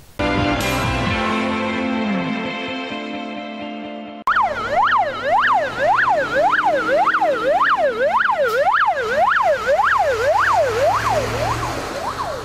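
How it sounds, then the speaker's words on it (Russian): Fire truck siren wailing while responding, a loud close rising-and-falling wail repeating steadily after an opening electronic tone, engine rumble beneath. "Мигающие проблесковые огоньки, включенная сирена"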